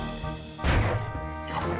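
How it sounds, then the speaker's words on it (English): A super slam attack smash in the video game Crash Bandicoot 3 Warped: one heavy, loud impact bursts out over ongoing game music, with a softer hit following shortly after. "Hey, the super slam actually worked."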